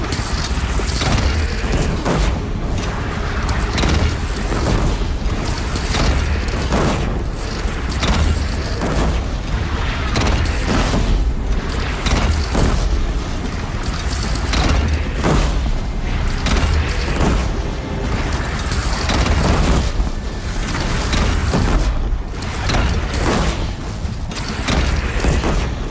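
Cannon fire and explosions from a fantasy action video game battle around a bridge: continuous dense booms, crashes and debris impacts, loud and chaotic for the whole stretch with barely any gaps.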